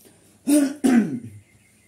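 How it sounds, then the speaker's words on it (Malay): A person gives two quick, close coughs in a row, throaty and fairly loud, followed by quiet. "agak batuk ya"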